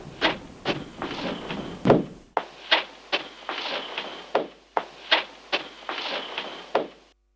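Foley effects from a film are cut onto a beat to serve as percussion: sharp knocks and thuds with short rustling tails land in a regular rhythm, fairly close and dry, with no talking.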